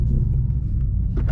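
A BMW M4 with downpipes runs in sport mode, heard from the cabin as a brief, steady low rumble without speech.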